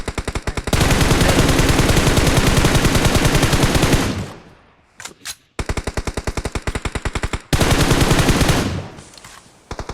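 Automatic weapons fire in the video game PUBG, played on an iQOO Z9 Turbo phone: loud, rapid bursts, several seconds long, broken by brief gaps and a few lone shots.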